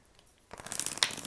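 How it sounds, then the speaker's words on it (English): A deck of about fifty oracle cards gets a quick shuffle, a short close-up burst of papery riffling and crinkling after a near-silent start. "I want to kind of just like do a little bit of a shuffle"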